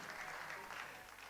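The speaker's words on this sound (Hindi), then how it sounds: "तालियों के साथ अभिनंदन" An audience applauds at a Bundeli cultural stage event, with faint, steady clapping from a crowd that carries evenly from start to end.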